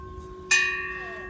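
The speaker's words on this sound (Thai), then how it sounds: "อันนี้เป็นการตีระฆังวัดพระพุทธบาทชนแดนครับ" A temple bell at Wat Phra Phutthabat Chon Daen is struck once, ringing out loud and bright, its tone hanging on over the lingering hum of an earlier strike.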